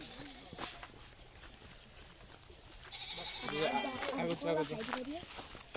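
A goat bleats a few times near the end, close by, among footsteps and people talking.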